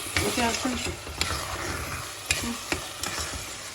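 Stuffed pepper filling is stirred with salt in a hot pan: a soft sizzle with sharp spoon clicks and scrapes against the pan at irregular intervals, close and fairly quiet.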